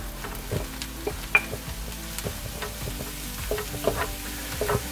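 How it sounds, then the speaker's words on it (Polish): Mushrooms and onion sizzling and frying in a pan, a steady crackling hiss with occasional scrapes and clinks of stirring. "Niech się smażą, one puszczą dość dużo wody"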